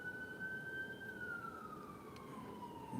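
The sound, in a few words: sirens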